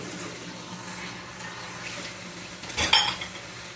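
Dishes, pots, pans and cutlery are washed at a kitchen sink with running water, giving soft clinks and then a sharp close clatter near the end, with no talk.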